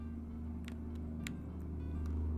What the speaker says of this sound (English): Who's driving with such a loud car?